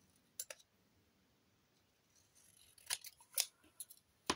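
Scissors snip through paper for an autumn moodboard: a couple of quiet cuts at first, then a cluster of sharper, crisper snips after a pause, close-up in an otherwise still room.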